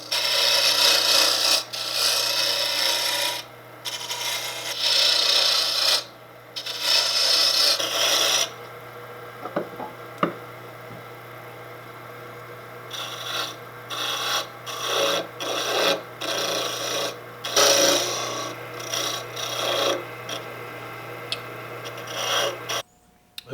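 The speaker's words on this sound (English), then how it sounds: "these carbide tools need to be parallel with the workbench." A carbide tool cuts a wood blank turning on a lathe, giving bursts of rasping, scraping shavings over a steady motor hum, with pauses between passes.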